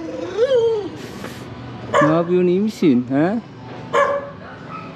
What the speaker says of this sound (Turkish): Şurada bir tane köpek ağlıyor ufak.